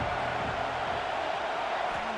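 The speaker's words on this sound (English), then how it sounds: "this crowd is at fever pitch" A large college football stadium crowd at a Virginia Tech versus USC game roars in a dense, continuous wall of loud cheering and noise, with no letup across the moment.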